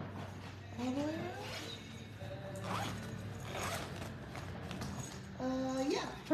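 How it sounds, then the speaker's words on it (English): The zipper on a mesh packing cube is pulled in a few quick scratchy strokes, close and clear, while a person talks nearby. "Let's see, how does this zip?"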